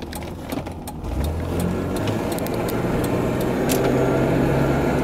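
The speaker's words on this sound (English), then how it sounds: "Upshift, downshift, just like she should shift." A 1986 BMW 735i E23 sedan with a 3.5-litre six-cylinder engine drives along, engine note rising steadily as it pulls through a shift, a continuous smooth hum with some clicks and mechanical noise early on.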